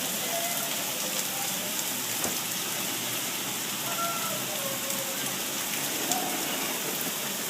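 Steady rain falling in Las Vegas, a dense, even hiss of drops on surfaces heard up close for several seconds, with a few faint background sounds and no talking.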